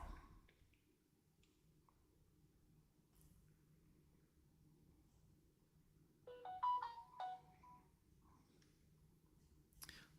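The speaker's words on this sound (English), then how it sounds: "Sorry, that's my phone." A mobile phone ringtone plays a short melodic tune for about a second, moderately loud against a quiet room with faint low hum.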